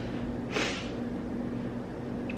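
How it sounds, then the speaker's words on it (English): A single short, close sniff rises over a quiet background hum. "Don't mind the sniffles."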